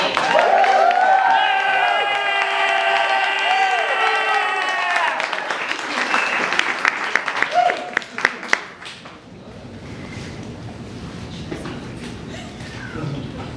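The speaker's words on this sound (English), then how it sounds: "let's give them a very, very, very warm round of applause" Applause and cheering from a live festival audience greeting the first act, loud clapping and yells mixed over musical tones and a held note, thinning into scattered claps and then quieter room noise.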